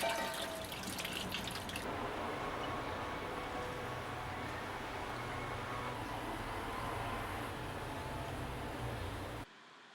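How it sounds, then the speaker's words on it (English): Water pouring and draining out of soaked rice noodles in a kitchen sink, a steady broadband rush running almost continuously at close range, brighter at the start and cutting off abruptly near the end. "Once the noodles have soaked for the appropriate time, we can drain them."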